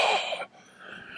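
A voice imitates heavy, frightened breathing, a loud airy rasping burst in the first half that cuts off abruptly, followed by a faint, quieter breathy stretch close to the microphone.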